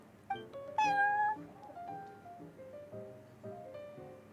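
A cat in the video game Genshin Impact meows several times, one long, loud, rising meow followed by shorter, softer mews, over a low background hum.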